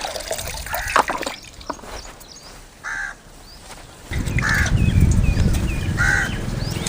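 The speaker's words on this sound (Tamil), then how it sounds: "தண்ணி வடிக்கிட்டு" Water is drained off washed rice outdoors, first in scattered drips, then as a steady pouring trickle, while crows caw repeatedly nearby.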